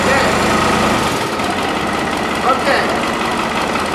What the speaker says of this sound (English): we're going to start this tractor